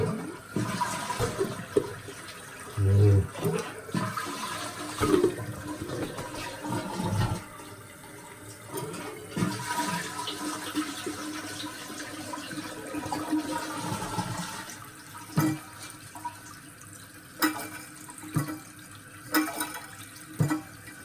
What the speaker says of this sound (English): let's flush this sucker